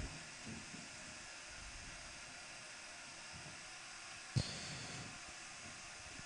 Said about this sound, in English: I don't know if you guys can hear me because that stupid vacuum, but it's almost done.